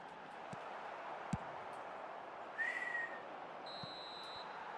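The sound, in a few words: referee whistle ending first half in eFootball video game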